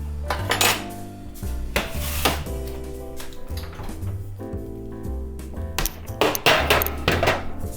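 Roasted broccoli tossed around in a metal pan, giving repeated clattering scrapes and knocks in uneven bursts, close and fairly loud, with no talking.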